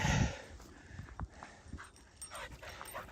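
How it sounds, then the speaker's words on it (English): A dog approaches along a hillside trail during a run, with its footfalls, jingling and soft whimpers coming close in short scattered bursts over outdoor background noise. "I hear the dog coming around the bend."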